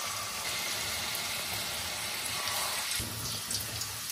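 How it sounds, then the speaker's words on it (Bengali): Spoonfuls of tal bora fritter batter made with coconut go into hot oil in a wok, producing a steady, close, continuous sizzling hiss with small crackles. "কড়াতে তেল গরম হয়ে গেছে, এবার বড়াগুলো ছেড়ে দেবো।"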